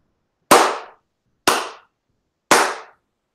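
Three sharp, loud single hand claps, evenly spaced about a second apart with silence between, made to sync the recording for a sports talk radio show.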